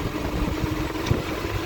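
A 1975 Series 3 Land Rover engine runs steadily on its first drive under its own power, a continuous low mid-pitched drone with faint clatter, close and moderately loud throughout.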